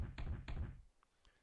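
Knocking on a door in the horror video game Ib: two quick sets of dull knocks close together, fairly faint, followed by a short quiet tail.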